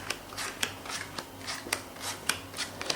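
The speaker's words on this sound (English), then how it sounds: "I'm going to deal out 3 hands of cards." Playing cards dealt one by one onto a table into three hands, each landing as a soft, crisp slap or snap in an irregular rhythm, close and quiet with a low background hum.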